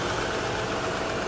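The engine of a 2005 Land Rover Freelander runs at a steady idle, a dense low mechanical rumble with a faint knocking texture, heard close and constant for a brief moment.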